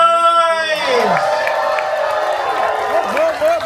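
A studio audience erupts in cheers, whoops and shouts, a dense close crowd roar with high excited voices rising over continuous clapping.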